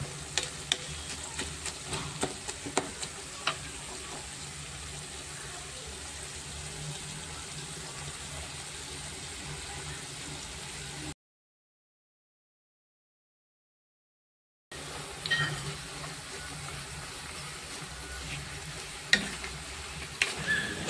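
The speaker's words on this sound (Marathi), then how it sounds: "आणि हे सर्व साहित्य लो टू मीडियम फ्लेमवर व्यवस्थित शिजवून घ्यायचं आहे." Spices and ingredients for a homemade Indian hair-oil recipe cooking in a pan over low to medium heat, a steady soft sizzle with occasional stirring clinks, close and fairly quiet, with a brief gap of silence midway.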